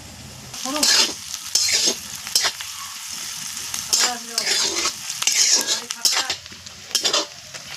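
Onions frying in a pan in a home kitchen ahead of adding lote (Bombay duck) fish, with steady sizzling broken by repeated loud bursts of stirring and scraping of a utensil against the pan.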